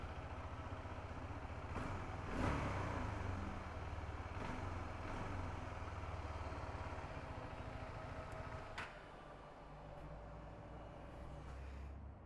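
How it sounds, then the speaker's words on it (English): A motorcycle engine running at low, steady idle in a home setting after chain lubrication, with one brief rev early on and a faint click later, fairly quiet throughout with no talking. "Let me rev it a little."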